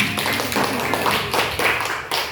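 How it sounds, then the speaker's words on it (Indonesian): A class claps their hands in a classroom, producing close, irregular bursts of tapping claps with a few distinct peaks throughout. "tepuk tangan"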